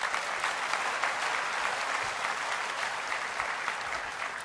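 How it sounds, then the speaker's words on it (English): A large audience at Apple's WWDC 2015 claps in a dense, sustained burst of applause that holds steady and fades slightly toward the end. "So give yourself a round of applause,"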